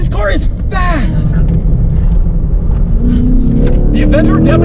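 A C8 Corvette engine pulls hard on a racetrack, its loud roar rising steadily in pitch toward the end while a driver talks over it.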